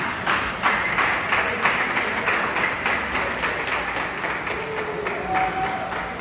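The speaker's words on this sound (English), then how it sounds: "I love how they clap to open the store." A crowd claps as a Best Buy store opens on Black Friday, a dense, continuous patter of applause that rises and falls slightly throughout.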